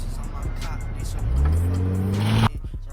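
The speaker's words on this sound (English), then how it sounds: "Powered by a tuned inline-6 twin-turbo, his BMW is pushing 595 wheel horsepower." A tuned twin-turbo inline-six BMW pushing 595 wheel horsepower revs up with a rising engine drone that climbs and then cuts off sharply, heard under a voiceover.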